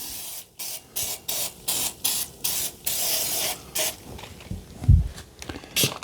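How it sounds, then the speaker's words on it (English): Goo Gone cleaner sprayed from a trigger bottle onto a Ninja WoodFire outdoor grill, a rapid series of about a dozen short, sharp hissing spritzes in an even rhythm, close and loud, with a soft knock partway through. "I'm going to keep spraying the Goo Gone."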